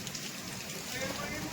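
Rain falls over Bhanvad as a soft, steady broadband hiss of drops on surfaces. It stays faint and continuous for a brief moment.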